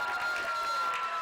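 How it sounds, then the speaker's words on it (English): Spectators at a high school state tournament baseball game cheer and shout after a called third strike, a steady wash of crowd noise heard from a distance, moderately loud. "The crowd going crazy."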